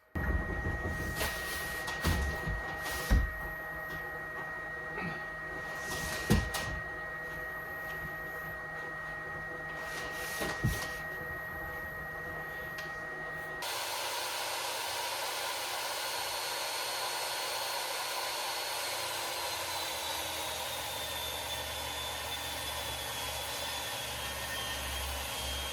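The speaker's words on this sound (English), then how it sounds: "if you notice I'm going really slow, I have a definite fear of the table saw" Table saw ripping stock during a home-build drywall repair: a steady, loud whining motor drone that holds throughout, with a sharper cutting tone sweeping up in the second half, with no voices.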